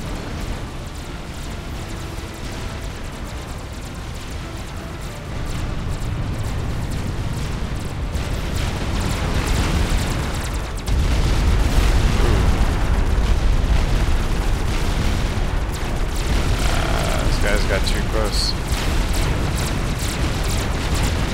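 Missile strikes and explosions in the real-time strategy game Supreme Commander: Forged Alliance. A dense, continuous roar of rumbling blasts and crackle swells louder in two steps and keeps going without a break.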